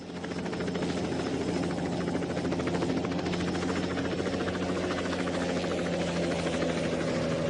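Helicopter hovering while losing altitude, heard as a constant, dense rotor and engine drone that stays steady and fairly loud throughout, with no voices.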